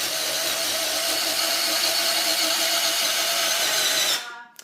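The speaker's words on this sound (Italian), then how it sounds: "Adesso proviamo ad alzare la bena, vediamo un po' come risponde" Radio-controlled Volvo L260H wheel loader raising its bucket, its electric motor giving a loud, fast, steady high whir for about four seconds before cutting off abruptly, with no talking.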